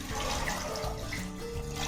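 Water poured into a clay pot while cooking egg dalma, a steady continuous splashing and gurgling pour that fills the whole short stretch at close range, with no talking.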